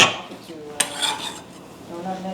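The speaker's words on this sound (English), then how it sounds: "Give this a quick stir." Chimichurri stirred in a bowl with a utensil, giving a few scraping clinks and rubbing sounds against the bowl, with one sharp knock near the middle, close up and fairly quiet.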